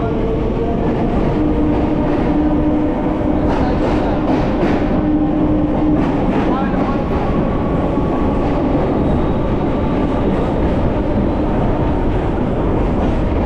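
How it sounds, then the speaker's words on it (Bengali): A steady, loud rumble of a train with clattering wheels and rail noise fills busy Kolkata station, continuous throughout. "এই হচ্ছে কলকাতা স্টেশনের এন্ট্রেন্স গেট"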